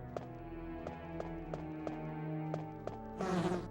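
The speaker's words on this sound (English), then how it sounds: "I think it's just the killer bees." Killer bees in the Resident Evil game, a tonal droning buzz with repeated rhythmic clicks and a short burst of noise near the end, fairly faint.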